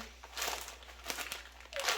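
A plastic pistachio packet crinkles and rustles close up in several short bursts, with a brief squeak near the end.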